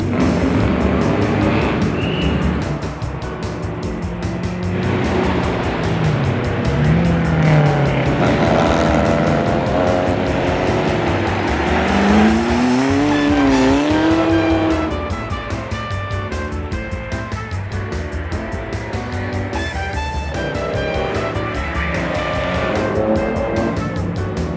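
Vintage race cars ranging from an Austin-Healey Sprite to a Lotus 11 Le Mans Series 2 idle and rev together on a starting grid, with engines rising and falling in loud, continuous, overlapping pitch sweeps.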